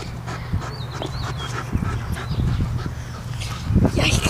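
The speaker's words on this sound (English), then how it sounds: "It's a dog." A dog pants and whimpers in a tug of war game, with breathy huffs and short whines up close in a steady stream, a faint high squeak here and there, and a person talking under it.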